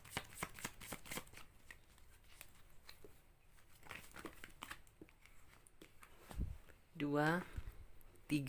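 Tarot cards are shuffled close up in a continuous patter of crisp papery flicks and riffles, while a person talks over the shuffling, and a voice briefly rises near the end.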